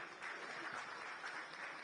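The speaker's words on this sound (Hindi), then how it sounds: "बहुत जोरदार तालियां बजाओ" Applause from an audience at a World Para Athletics Championship event, a steady wash of clapping sustained for a couple of seconds at moderate volume.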